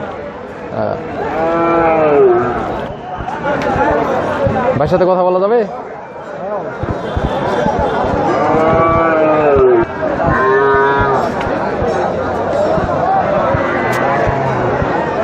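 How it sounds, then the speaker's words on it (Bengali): Heifers and calves at a winter cattle market in Mirganj, Nilphamari, moo loudly and repeatedly, close by, while people talk and a crowd chatters around them. "দেখুন অনেক অনেক গরু অনেক গরু অনেক বকনা এখানে"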